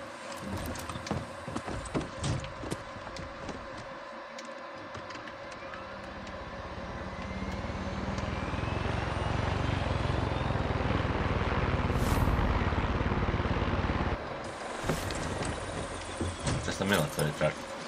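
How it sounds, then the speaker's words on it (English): A helicopter in the video game Far Cry 6, its rotor and engine drone building to a steady loud roar behind game effects, with a person talking over it early on. "Chopper time again."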